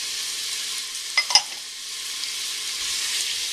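Onions with a teaspoon of salt sizzle and fry in hot oil in a pan, a steady faint hiss with a couple of brief clinks from stirring midway.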